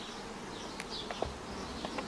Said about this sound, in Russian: Вот так вот пчелки летают.